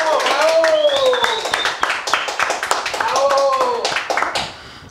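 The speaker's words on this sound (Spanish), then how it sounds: "Un aplauso para La Puca." Scattered audience clapping on a live comedy or talk show, with quick uneven hand claps running beneath loud, animated talk.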